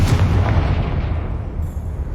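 A blast from the Confringo spell in the Hogwarts Legacy video game hits as one loud, booming explosion that rumbles and fades over about two seconds.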